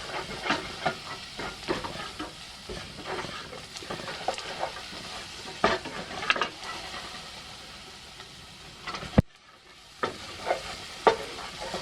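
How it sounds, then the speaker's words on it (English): Garlic and onion frying together in a pan, a continuous crackling sizzle broken by repeated scrapes and clicks of stirring, with one loud clack and a brief near-silent gap before the frying resumes, close up with no talking. "From here, I'm going to add the garlic and let that marry with the onion."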